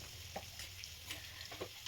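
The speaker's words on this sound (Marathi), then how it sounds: "त्यानंतर चिरून घेतलेला कांदा घातला. कांदा छान लालसर होईपर्यंत परतून घेतला." Chopped onion sautéing in hot oil in a wok over a tempering of cumin, mustard seeds and curry leaves, a steady low sizzle with a few soft stirring scrapes, close by and with no voices.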